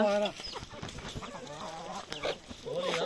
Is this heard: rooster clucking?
yes